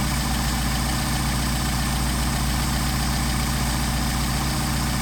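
A Mercedes 190SL engine with a Solex carburetor idles steadily at around 800 RPM, a constant low throbbing rumble with no break or voices.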